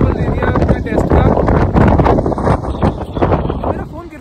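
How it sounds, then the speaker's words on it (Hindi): Heavy wind buffets the microphone in loud, irregular rumbling gusts that drown out everything else. "इतनी हवा चल रही है."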